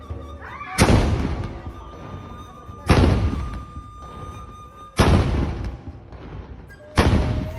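A traditional meriam cannon fires four times along the Kapuas river in Pontianak. Each deep, booming blast lands about two seconds apart over a rumbling outdoor background, and every boom fades slowly before the next.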